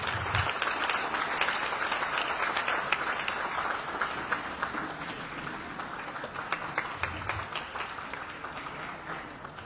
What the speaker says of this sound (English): can we give a round of applause to welcome the Acting Minister of State?